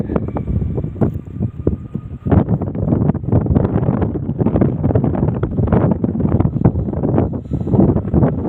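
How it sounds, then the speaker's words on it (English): Strong wind buffets the microphone at an airfield in Fiji as an airliner rolls for takeoff, with a loud, continuous gusty roar and rumble and no voices. "A bit windy here today too."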